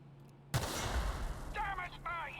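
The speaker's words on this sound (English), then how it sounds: "Some objects will explode when hit." Sudden blast in The Outer Worlds when an object hit by gunfire explodes, a sharp onset followed by a rumbling decaying roar, with brief speech fragments layered near the end.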